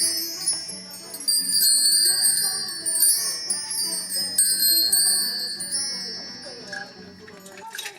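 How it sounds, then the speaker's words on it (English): Hanging chimes batted by a baby's hand ring out in bright metallic tinkles and clinks, struck repeatedly in irregular bursts, close and clear, fading off at the end. "He moves the chimes with his right hand while wiggling his feet and toes."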